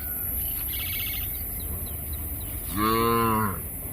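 A calf moos once, a loud drawn-out call lasting under a second, over a steady outdoor hum with a few faint bird chirps earlier in the scene.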